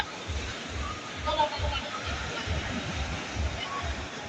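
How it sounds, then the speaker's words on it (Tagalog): Large storm waves crash and churn against a shoreline where fishing boats have been wrecked, a rolling low rumble of surf pulsing steadily beneath someone speaking. "Grabe laki ng alon."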